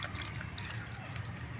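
Liquid being poured from a container into a pot while making dhokar dalna, a Bengali lentil-cake curry, heard as a close, steady watery trickle with slight sloshing throughout.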